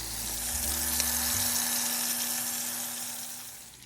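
Salmon fillet frying in a pan, a steady, close sizzle with hissing fat and a low hum from the stove, continuous with no talk.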